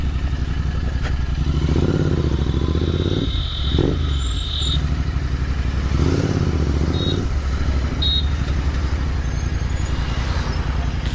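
A Royal Enfield Continental GT650 motorcycle, parked for about five days at a service station, idles with a steady low rumble, swelling twice in louder revs, with faint clattering and no talk.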